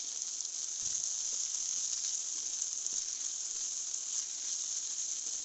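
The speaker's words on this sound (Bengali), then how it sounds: "শুটকিগুলো পেঁয়াজের মধ্যে দিয়ে দিচ্ছি যাতে শুটকিগুলো তেলে হালকা পরিমাণে ভাজা হয়ে যায়" Dried fish frying with onions in hot oil in a pan gives a steady, even sizzle that runs unbroken throughout, close and moderately loud, with a few faint clinks underneath.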